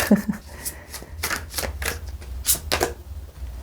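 Tarot cards are shuffled and drawn during a reading, a run of close, crisp riffling and snapping card sounds in quick irregular bursts, fairly loud with no talk over them.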